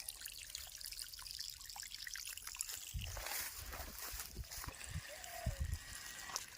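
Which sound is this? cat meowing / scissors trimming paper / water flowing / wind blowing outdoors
water flowing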